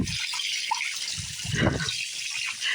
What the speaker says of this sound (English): Wow, plenty of water coming out of this tap.